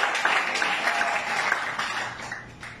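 A church congregation clapping in enthusiastic applause, a dense burst of many hands that gradually tapers off over a few seconds.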